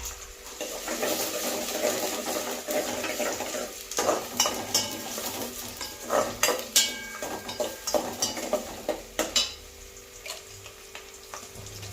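Curry leaves and ground onion frying for a Tamil crab curry, a soft steady sizzle with a spoon scraping and clinking against the pan in a quickening run of close strokes, no talking.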